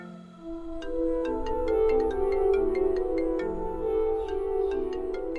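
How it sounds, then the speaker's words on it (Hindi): A melodic phone ringtone announces an incoming call, its bright tones repeating steadily over a low hum for several seconds with no talking. "वली, मैं विश आंटी की कॉल आ रही है।"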